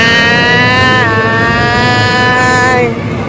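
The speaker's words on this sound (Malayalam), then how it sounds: "Friends മിഞ്ച bike ഓട്ടുന്നു." A motorbike ridden by a rider, its loud, steady engine drone running throughout with a dip in pitch partway through as the revs shift, then easing off near the end, with no voices.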